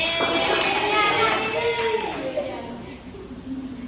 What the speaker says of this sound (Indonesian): Tepuk tangan untuk Yulianti